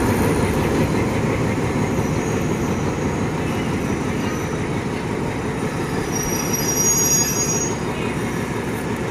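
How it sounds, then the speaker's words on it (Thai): Ordinary passenger train 254 pulls into Bo Takhro railway station in Thailand, a steady loud rumble of rolling wagons with wheel noise and a high squeal late in the pass, continuous throughout. "ตอนนี้ขบวนธรรมดาที่254มาถึงนะครับ"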